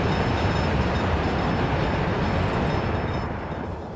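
A big coal train passing very loudly in a game, a dense, continuous roaring rumble that fills the whole moment and eases slightly toward the end.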